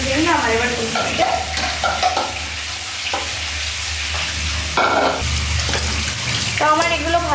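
Cut cauliflower and potatoes are washed in a pot of water, making close splashing and sloshing with knocking of the pieces against the pot, in uneven bursts, with a voice briefly audible.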